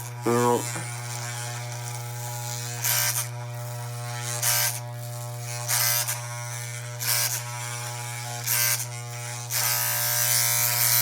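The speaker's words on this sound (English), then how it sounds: "You just shave up" Electric shaver buzzing steadily while shaving the sides of the head around dreadlocks, a constant close hum with repeated brief rasping surges as the blades pass over hair.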